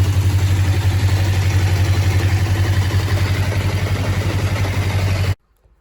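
A Kawasaki GPZ 500S motorcycle engine idling close by after servicing, with a loud, steady low throb and light clatter that runs evenly for about five seconds, then cuts off abruptly.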